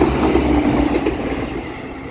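An East Midlands Railway Class 170 train rolls past a level crossing in Nottinghamshire, a loud, steady rumbling roar of wheels and engine filling the moment at close range.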